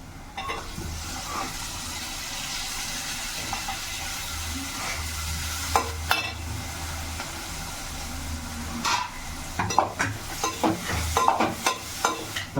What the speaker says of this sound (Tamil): தக்காளி நல்லா வதங்கி கிரேவியாக வர வரைக்கும் வெயிட் பண்ணோம்